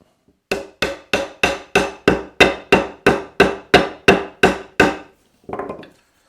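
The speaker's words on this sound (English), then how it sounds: "Before I hammer that in, I need to make sure that we're in line here." Thirteen sharp hammer blows in a steady, even rhythm, loud and close, hammering a part in while assembling a perch stool, followed by a brief softer scraping knock.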